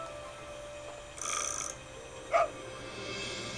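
A dog in the video game Nancy Drew: Ghost Dogs of Moon Lake gives a single short, faint bark after a brief burst of other game noise, against a quiet background.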